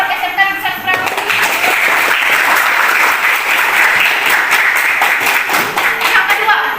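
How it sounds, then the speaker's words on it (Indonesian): A school crowd at an SMK Negeri 1 Prabumulih Youth Pledge Day event, with students in traditional dress, bursts into loud, sustained applause, a thick wash of many hands clapping with crowd voices mixed in. "Tepuk tangan dulu dong buat SMK Negeri 1 Prabu Muli."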